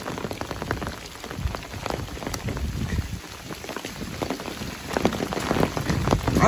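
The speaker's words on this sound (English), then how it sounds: "figured I'd let you know that it's still raining on me." Steady rain pours onto a forest stretch of the Appalachian Trail, a dense, close hiss of drops pattering on leaves and gear that runs unbroken throughout with no voices.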